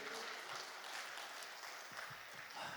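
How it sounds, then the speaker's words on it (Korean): Congregation at a Korean church service clapping together in praise, a faint, steady wash of applause from a room full of people that holds evenly through the brief moment. "우리 하나님께 영광의 박수를 드립시다."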